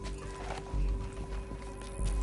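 Horse hooves galloping in Red Dead Redemption 2, soft rhythmic thuds under a steady hum of game ambience, moderately quiet and continuous.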